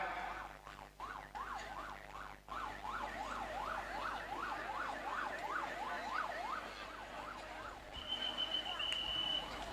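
An ambulance siren wails in quick rising-and-falling sweeps, loud and steady, over background crowd noise at a large outdoor sermon gathering at a bus terminal in Aceh, with a sharp high tone near the end.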